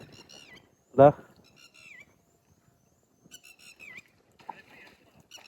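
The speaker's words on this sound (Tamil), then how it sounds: "இதுதான் ஆள்காட்டு குருவி. ஆள் இருந்தாங்க அப்படின்னாக்கா இது வந்து சத்தம் போடும்." A red-wattled lapwing gives several sharp, piercing calls, some with a dipping end, spread out with short gaps at moderate distance, with one dull thump and quiet stretches between.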